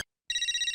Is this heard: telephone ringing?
yes